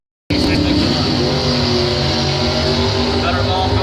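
A Chevy drag race car roars at the launch, its engine noise bursting in abruptly at full loudness and holding a steady, dense, close roar under an announcer's voice.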